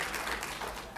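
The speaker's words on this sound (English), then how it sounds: "Can we get some hand claps for that?" An audience claps at a partnership celebration, producing a soft, brief patter of hand claps heard somewhat distant and faint, with a steady wash of many hands rather than distinct individual claps.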